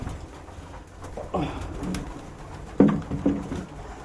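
Pigeons coo softly in a few low, throaty bursts over quiet background rustling.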